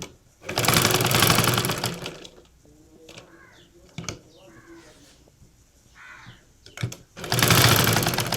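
An electric sewing machine stitches a churidar slit in two loud, steady bursts at the start and end. Quieter fabric handling and clicks fill the pause between.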